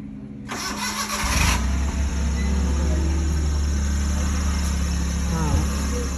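A car engine cranks and catches after a brief starter whir, then settles into a steady, loud idle close by, with people talking over it.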